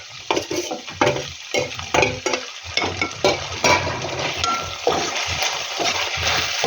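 Grated potato frying in oil with golden-browned onions, a close steady sizzle punctuated by frequent scraping stirs and clatters against the pan.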